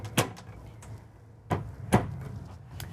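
Closet doors in a Newmar Ventana 4369 motorhome open with a few soft knocks and clicks, three distinct light thumps spaced over a couple of seconds in a quiet interior.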